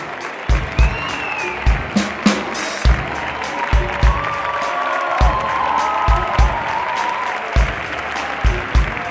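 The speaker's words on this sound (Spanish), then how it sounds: "Un aplaudiment pel petitó que ve per aquí." Audience applause in the Teatre Coliseum during a comedy-music improv show, a steady wash of clapping with periodic rhythmic beats and thumps running through it.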